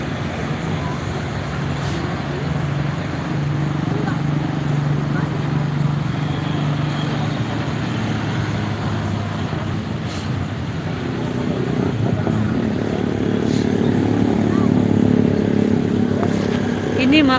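Busy night street in Sorong, Papua, with cars and shared taxis rumbling past, a motorbike revving, and a continuous traffic roar with a person talking over it.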